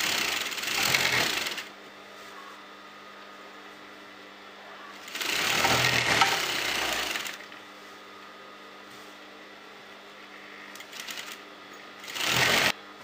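A sewing machine stitches around the edge of a churidar salwar in three loud whirring bursts, each lasting one to two seconds, with quiet pauses between them and no talking.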